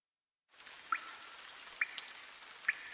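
Steady soft rain hiss with a few distinct drops pattering now and then, fairly faint.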